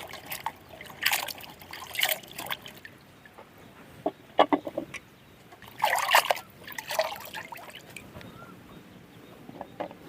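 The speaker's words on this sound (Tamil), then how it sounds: "வெண்டைக்காயை நல்லா கொட்டி அலாசி எடுத்துக்கலாம்." Okra rinsed in a bowl of water, with intermittent splashing and dribbling in several short bursts separated by quiet pauses, close and fairly clear.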